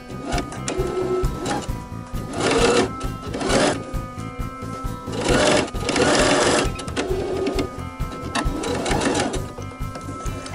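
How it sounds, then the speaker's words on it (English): A sewing machine stitches a quarter-inch seam down the sides of a fabric bottle tote, running in several loud, close bursts of rapid mechanical whirring separated by short pauses. "We're going to sew a quarter inch seam allowance and sew our sides together."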